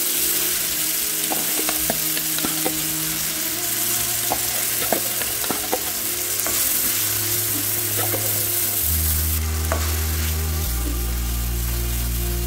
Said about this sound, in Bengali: এবার খুন্তি দিয়ে একটু নেড়ে নিয়ে তাতে দেবো পেস্ট করে নেওয়া মটরশুঁটির